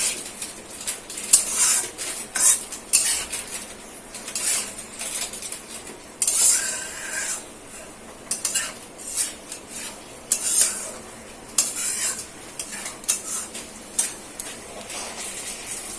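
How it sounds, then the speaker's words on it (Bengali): A spoon stirs pointed gourd into poppy seed paste in a pan with repeated close scrapes and clinks against the metal, over a faint background sizzle. "তো আমি এখানে পটলগুলোকে দিয়ে দেবো, দিয়ে ভালো করে মিক্স করে নেব।"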